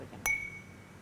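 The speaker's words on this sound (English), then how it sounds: "I think we should raise a glass to Brian" A single bright clink of glasses in a toast rings out sharply and fades quickly over a quiet, low background.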